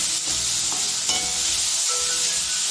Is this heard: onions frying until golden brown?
yes